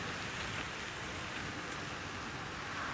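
Steady rain falls during a morning safari drive, a constant dense patter on surfaces with no breaks and no talk.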